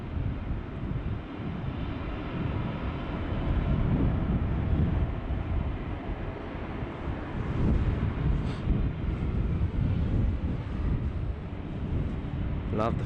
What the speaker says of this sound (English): Love the Finnair 350.